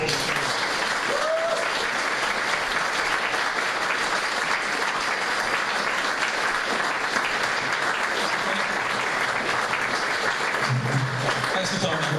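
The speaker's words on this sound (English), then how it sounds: "Round of applause, please" Sustained applause from a convention audience after a panel at the Chunky Fringe 2019 event, dense steady clapping filling the whole stretch at even loudness with faint crowd murmur mixed in.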